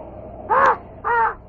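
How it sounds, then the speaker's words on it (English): A raven gives two loud, harsh caws in quick succession, each a rasping call with strong harmonics, set against a quiet windy background. "And that raven."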